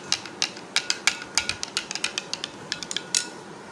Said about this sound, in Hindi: अब इसको अच्छी तरह मिक्स कर लेंगे नमक को